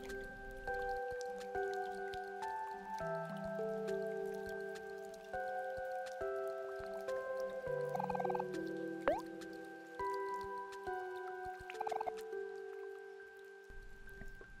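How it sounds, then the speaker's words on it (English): Steady patter of falling rain striking an umbrella in the video game OMORI, a soft continuous drizzle under sustained musical tones, with no voices. "The sound of falling rain as it hit your umbrella."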